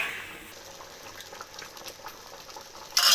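Macaroni payasam simmering and thickening in jaggery syrup, soft low bubbling close by, ending in a sudden louder burst of stirring or bubbling.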